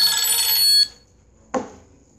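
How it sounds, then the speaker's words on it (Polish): An electronic telephone bell rings with a bright metallic trill that stops abruptly, then a single short clang of a second ring rises briefly after a pause, close and clear with no talking. "Odbierzemy telefon."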